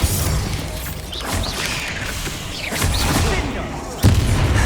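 Blasting spells and other magic combat go off in Hogwarts Legacy, with repeated booming impacts and mechanical clatter over game music and brief voices, ending in a sharp loud burst.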